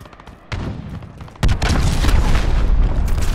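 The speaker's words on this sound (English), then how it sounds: "Enemy cruise missile, take cover!" An enemy cruise missile strikes in Call of Duty: Modern Warfare with a close, heavy boom that starts a faint rumble, then a bigger blast that leaves a sustained roaring, crackling wash of debris.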